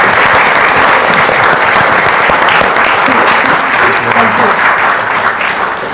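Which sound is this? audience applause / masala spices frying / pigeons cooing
audience applause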